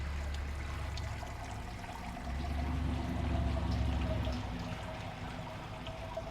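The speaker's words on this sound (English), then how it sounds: "So now all that is draining out." Beer wort draining out of an Anvil Foundry electric brewing system in cold weather, a steady pouring trickle of liquid that swells louder midway and then settles back, close by with no talk.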